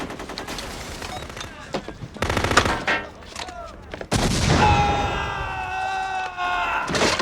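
Rapid gunfire from space marines in a science-fiction film, bursts of loud shots in the first half, then a sustained blaze of weapons fire mixed with whining, tonal sci-fi effects.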